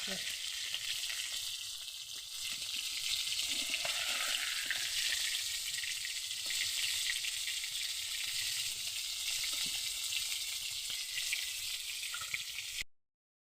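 Bay leaf, whole cumin seeds and cut potatoes frying in oil in a wok, a steady, dense sizzle running throughout with a few soft clinks and stirring sounds, no talking.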